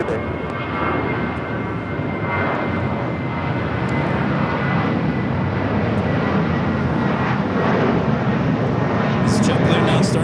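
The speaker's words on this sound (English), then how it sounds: "This flight taking off to Phoenix." A JetBlue airliner on a sports charter to Phoenix takes off at Los Angeles International Airport, its jet engines a loud, steady, broadband roar that holds and swells slightly across the whole stretch.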